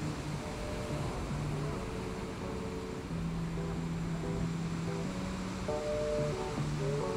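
Surf at Balangan Beach in Bali at high tide as a steady broadband roar of breaking waves, continuous and even throughout, with faint tonal sounds underneath.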